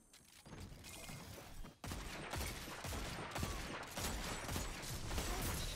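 Rapid, repeated shots from the Dead Man's Tale exotic scout rifle in a video game, a dense crackling volley that starts softly, pauses briefly near two seconds, then continues steadily and loud.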